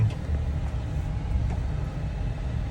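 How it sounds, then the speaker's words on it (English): A 2014 Jeep Wrangler Unlimited Sahara drives along, a steady low engine and road rumble heard from inside the cabin. "I'm going to be driving this 2014 Jeep Wrangler"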